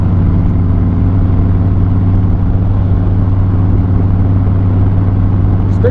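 A 2008 Harley Davidson Softail motorcycle rides down a lonely road, its engine holding a loud, steady low rumble up close for the whole stretch with no break in the throb.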